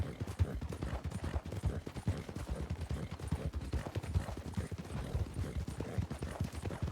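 Horse hooves clip-clop steadily and rhythmically on the ground in the Red Dead Redemption 2 roleplay game, a continuous fairly close trotting pattern with no talk over it.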